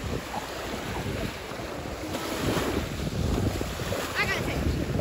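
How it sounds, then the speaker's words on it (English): Gulf of Mexico surf washes onto a beach as a steady, broad rush, heavily mixed with constant wind buffeting the microphone, with no clear talking. "Here is the water. That is the Gulf of Mexico,"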